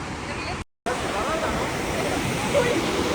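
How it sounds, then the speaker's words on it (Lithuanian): Constant roaring rush of a powerful waterfall in Yosemite, heard from its top, broad and loud, briefly cutting out for a moment before resuming. "Esam ant to krioklio viršūnės."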